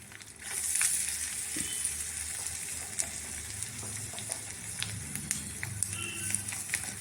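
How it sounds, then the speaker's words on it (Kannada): Crushed garlic, cumin, pepper, curry leaves and asafoetida sizzle in hot tempering oil, a steady close crackling fry with occasional stirring scrapes and pops throughout. "ಇದೆಲ್ಲ ಚೆನ್ನಾಗಿ ಫ್ರೈ ಆಗಲಿ"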